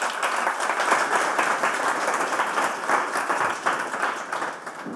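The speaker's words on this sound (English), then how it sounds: "So without further ado, let's give a big round of applause to Kate Gray with Press Escape." A conference audience applauds steadily for several seconds after a talk introduction, a dense wash of many hands clapping at once, fairly loud and close.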